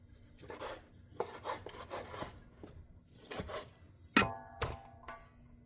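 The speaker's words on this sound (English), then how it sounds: "I'm gonna start cutting or slicing them." A knife cuts cooled braised pork belly into chunky slices on a board, giving a series of soft, irregular chops and scrapes close by, with a few sharper knocks near the end and no talking.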